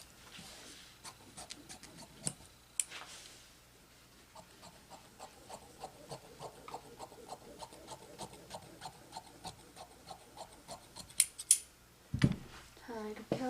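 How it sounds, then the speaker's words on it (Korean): Fabric being cut with scissors for a tailored-collar top and gored skirt, a long steady series of close snipping and rasping blade strokes with a few louder thumps near the end. "그래서 얘를 먼저 자를게요"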